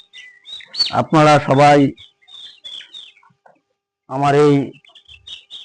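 Young chicks on a farm in Kurigram, gathered for vaccination, cheep in thin high chirps throughout, while someone speaks loudly over them in two stretches.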